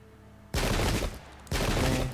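Two loud bursts of massed musket volleys ring out in the Pike and Shot battle game, each a dense crackling fusillade about half a second to a second long, separated by a short gap.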